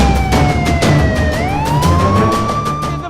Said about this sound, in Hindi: जो सायरन की आवाज है वो आपको आनी शुरू हो गई होगी